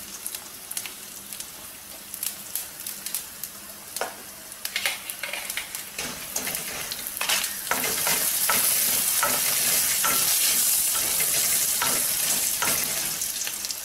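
Mustard seeds and urad dal fry in hot oil for a pirandai chutney, crackling and popping close by in scattered bursts that swell into a dense, continuous sizzle.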